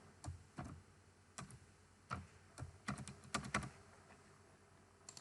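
Keys on a computer keyboard are tapped in short irregular bursts as a password goes in during a Security Onion install on VMware Workstation Player, close and fairly quiet with brief pauses between groups of keystrokes.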